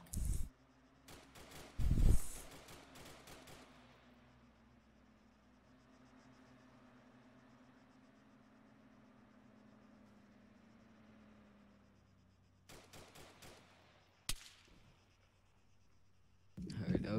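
Suppressed gunfire in Arma 3 comes as short clusters of sharp muffled shots at the start, in the middle and at the end, with a low hum and voices in between.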